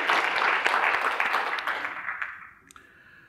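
Applause from an audience at a talk, loud and sustained at first, then thinning out and fading away to near silence.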